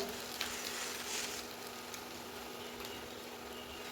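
Egg devil mixture of potato and spices frying on a low flame gives a quiet, steady sizzle and crackle that runs evenly throughout.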